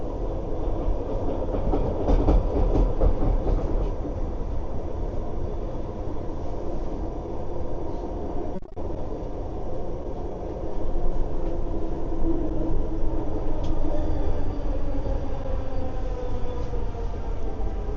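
A train runs steadily along the rails on a Vancouver-area line heading toward Waterfront, a continuous loud rumble with rail noise that holds for the whole stretch and swells a little toward the end.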